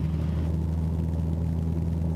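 A light airplane engine at full throttle during a takeoff run, a loud, steady droning rumble heard from inside the cockpit with no break.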